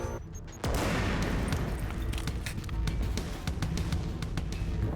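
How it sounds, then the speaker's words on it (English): A loud grenade blast in the video game Quantum Break bursts in suddenly, followed by sustained rumbling and crackling gunfire. "Oh my god, that's a grenade."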